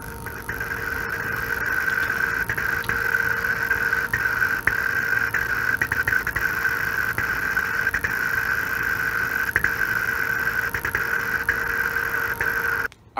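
An oxy-hydrogen reactor with a 304 stainless steel nozzle runs with a steady, loud whine over a constant hiss for more than ten seconds. It cuts off abruptly at the end.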